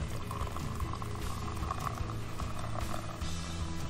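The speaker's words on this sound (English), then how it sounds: "I'm now going to get my gin. I'm using a Fever Tree gin." Slimline Fever Tree gin is poured into a glass for a camping cocktail, giving a continuous close fizzing, bubbling pour that stays steady at moderate loudness for the whole stretch.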